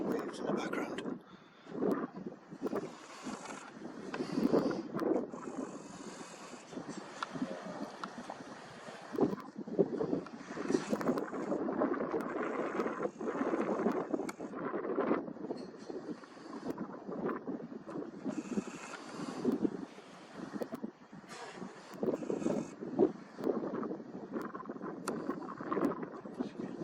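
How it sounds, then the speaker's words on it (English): Ocean waves wash continuously in the background, largely masked by strong wind buffeting the microphone. "You can hear the waves in the background."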